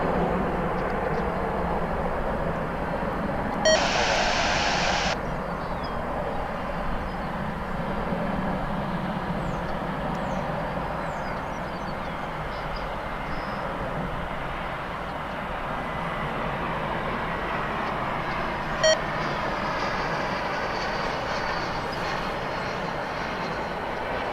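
Airliners depart DFW's parallel runways 18 Left and 18 Right at daybreak, a broad, steady distant jet roar that holds for the whole span, with a couple of short bright blips on top.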